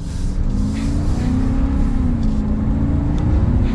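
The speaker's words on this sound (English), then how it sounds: "We'll give it one more acceleration." A 2022 Ram 2500 Power Wagon pickup accelerates hard, its engine roaring loud and steady with a rising drone throughout, heard from inside the cab with no talk.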